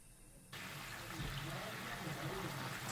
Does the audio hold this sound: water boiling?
yes